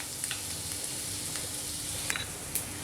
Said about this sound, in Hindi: ऑयल के गर्म होने के बाद हम इसमें 1 टेबलस्पून भरकर चॉप किया हुआ अदरक और लहसुन डाल देंगे।